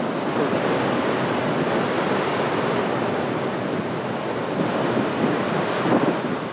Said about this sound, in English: Surf's certainly a bit more serious here.